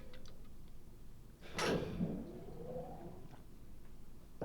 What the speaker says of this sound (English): And the door slid shut.